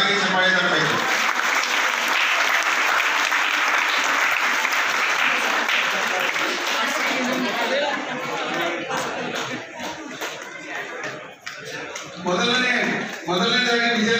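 An audience at a religious celebration bursts into loud sustained applause for a prize announcement, dense clapping that thins after several seconds as a voice begins speaking over scattered claps.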